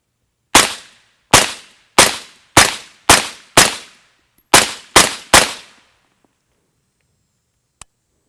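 Eight suppressed rifle shots fired through a Rugged Surge 762 silencer using ZQI 62 grain ammunition, sharp loud cracks with short decays, in an uneven rhythm with a brief pause before the last three, then a faint click.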